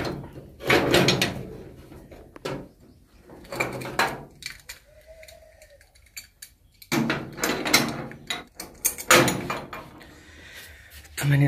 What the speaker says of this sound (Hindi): ठीक है, तो मैं दरवाज़ा बंद कर देता हूँ।